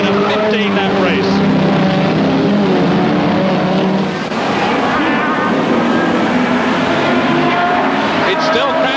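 Saloon cars racing in the 1971 championship, including a Vauxhall Viva GT, loud engines droning and revving steadily close by on the lap, with a commentator talking over them.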